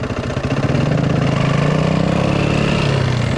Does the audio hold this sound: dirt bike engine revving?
yes